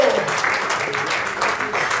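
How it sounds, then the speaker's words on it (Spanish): A church congregation claps steadily, a dense patter of applause with a voice faintly audible beneath it. "Den un aplauso al Señor si está en esta hora"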